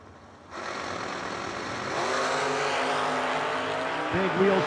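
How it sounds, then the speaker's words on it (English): Drag race car launching wheels up off the line at a bracket nationals event: a loud, sustained engine roar that steps up in intensity as the car leaves, heard close and continuous. "It's another big wheels up leaving Ford."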